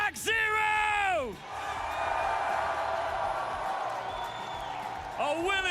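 A packed Rainbow Six Siege esports audience cheers loudly, with bellows and whoops building into a sustained roar, as an announcer's voice rings out over the crowd at the start and again near the end.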